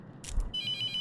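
Telephone ringing, a bright electronic ringtone starting about halfway through the brief moment after a short muffled rustle, steady and fairly close.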